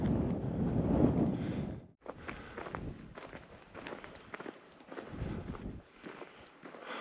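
Gusty wind buffets a hiking trail along the rim at Dead Horse Point, rumbling in uneven bursts with a brief lull, mixed with nearby footsteps crunching on the path.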